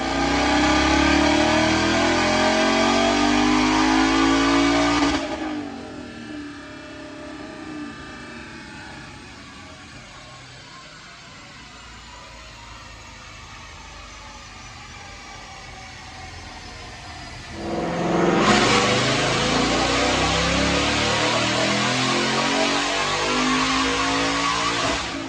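Dyno pulls on a 2015 Roush-supercharged Mustang, phase 2, with the airbox lid on or off: a loud engine revs hard, drops to a quieter idle-like drone, then surges back into another loud, sustained pull.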